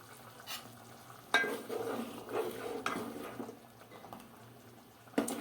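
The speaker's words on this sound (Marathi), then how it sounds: "आपल्या ग्रेव्हीला चांगली अशी उकळी यायला लागलेली आहे" Soya chunk masala gravy bubbling in a pan, with a steady low simmer and sizzle broken by a few sharp stirring scrapes and clatters, close and moderately loud, with no voices.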